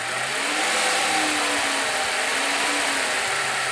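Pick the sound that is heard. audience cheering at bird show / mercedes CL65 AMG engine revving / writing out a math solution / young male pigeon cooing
mercedes CL65 AMG engine revving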